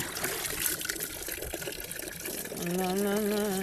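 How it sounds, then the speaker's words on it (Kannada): Water is poured out for washing, a steady broadband splashing and trickling that runs throughout and is partly overlaid by a voice-like tone near the end. "ಸ್ವಲ್ಪ ಸ್ವಲ್ಪ ನೀರು ಹಾಕಿ"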